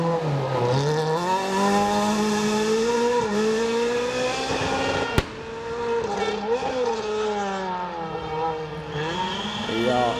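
A rally car on the Elva town stage of Rally Estonia 2016 roars past at speed, engine loud and close as revs climb and fall through gear changes, with a commentator talking over it.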